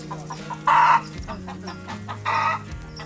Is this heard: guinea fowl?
yes